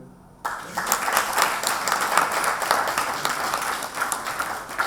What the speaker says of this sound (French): Est-ce qu'on peut applaudir Balla s'il vous plaît?